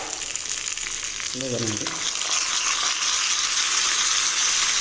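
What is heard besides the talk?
tempering (popu) sizzling as it is mixed into chutney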